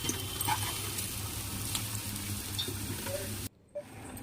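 Potatoes for an aloo masala curry frying in hot oil, a steady dense sizzle with faint stirring scrapes throughout, cutting off abruptly near the end to near silence with a brief clink.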